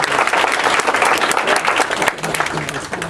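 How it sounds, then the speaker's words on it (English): Loud, close audience applause at an evening community class, dense continuous clapping from a crowd filling the whole stretch, with a faint voice underneath toward the end. "How about another round of applause for Kenny?"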